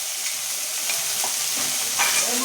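Onion and garlic sizzle and crackle steadily in a hot pan, with occasional soft scraping of stirring over the constant frying hiss.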